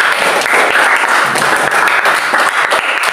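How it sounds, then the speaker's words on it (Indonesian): A classroom of students claps together after group discussion presentations, loud and close, a busy stream of individual hand claps with sharp distinct strikes layered over a continuous applause wash. "Tepuk tangan untuk kita semua."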